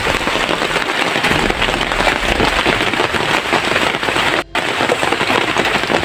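Heavy rain in a video game makes a dense, steady hiss that fills the whole stretch, broken only by a split-second dropout near the end.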